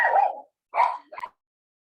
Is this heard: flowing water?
no